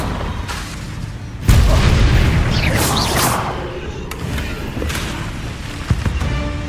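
A Confringo fire spell bursts in the wizarding action game Hogwarts Legacy, a sudden loud boom followed by crackling, whooshing magical debris and further thuds in combat.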